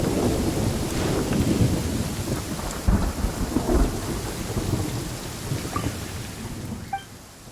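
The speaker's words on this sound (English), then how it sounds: "This rain ain't clearing any time." Steady rain pours in the game Genshin Impact, with low rumbling thunder rolling through the middle, all heard alone without voices.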